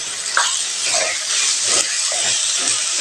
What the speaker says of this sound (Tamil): இப்போ அரை கிலோ சிக்கன் போட்டுக்கலாம் இது ஒரு அஞ்சு நிமிஷம் ஃப்ரீயாக வதங்கி வரட்டுங்க